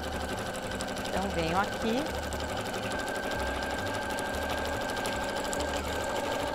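Domestic sewing machine stitching through fabric layers with a plastic crystal vinyl sandwich while making a travel toiletry bag, a steady motor whir with brief reverse backstitch passes, close and continuous under someone speaking.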